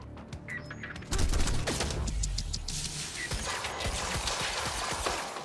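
Glock pistol fire in the video game Quantum Break: a series of sharp shots crack out over a busy, mechanical game backdrop, fairly loud and close.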